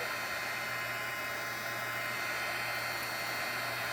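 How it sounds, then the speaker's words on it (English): A heat gun runs steadily on a section of cured resin, a constant loud blowing hiss with a low motor hum underneath, unbroken for the whole stretch and with no talking. "So, my heat gun, I'm heating up a section."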